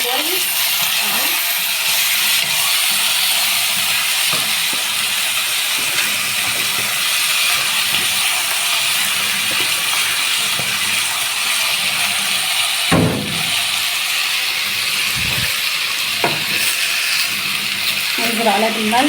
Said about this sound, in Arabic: بعد ما الشعريه اتحمرت هننزل عليها بالرز غسلينه ونسخنيه كويس اهو